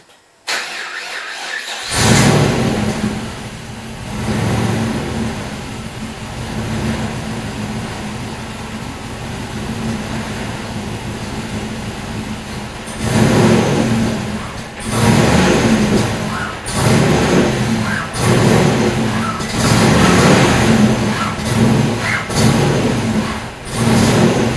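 An LS1 turbo engine running on E85 cranks and catches, then settles into a loud, rough, uneven idle with repeated throttle blips and swells, close by, and no talk over it.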